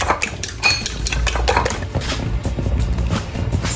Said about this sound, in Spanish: en un plato vamos a mezclar 3 huevos enteros, bien batidos, y lo agregamos a la leche que todavía está fría